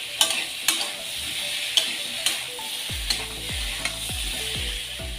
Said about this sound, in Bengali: এখানে নুন দিয়ে এখানে কিছুক্ষণ কষে নেব।